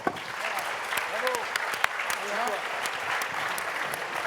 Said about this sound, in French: donc on applaudit tout le monde.